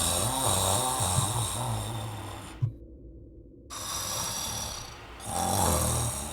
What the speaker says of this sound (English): There's something snoring very loudly behind this door.